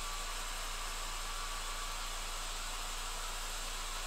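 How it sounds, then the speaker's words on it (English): A hair dryer blowing steadily at close range to dry paint on a miniature figure, a constant airy whoosh with no pauses or other sounds. "I'm going to hit this with the hairdryer for a bit, help this along."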